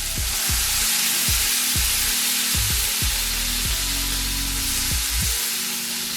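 A burger patty sizzles loudly on a hot buttered griddle while a spatula repeatedly presses and scrapes it, with a constant bright frying hiss and rhythmic low knocks and scrapes underneath.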